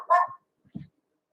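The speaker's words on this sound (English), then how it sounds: "I don't know why Moppy's barking" A small dog gives two short, sharp barks close by indoors, the second lower and duller, each followed by silence.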